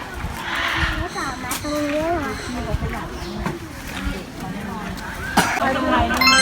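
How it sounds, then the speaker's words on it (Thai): A miniature horse at Bonanza Exotic Zoo in Khao Yai gives a few neighs and snorts up close, mixed with steady chatter from people and children nearby. "เอามาดูม้าจิ๋วตัวนี้เล็กมากอะ"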